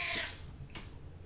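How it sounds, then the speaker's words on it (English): A house cat gives a short, fairly quiet meow close by, followed by a second faint chirp in a calm indoor room. "There's the cat."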